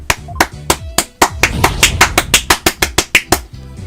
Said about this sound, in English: Yes! I'm clapping.